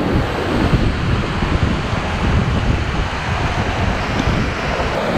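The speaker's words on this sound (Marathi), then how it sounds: "बाप रे, काय हा फ्लो आहे जबरदस्त" Swollen rain-fed stream below Kalu waterfall rushes past in a continuous loud roar, broad and unbroken, mixed with wind noise on the microphone.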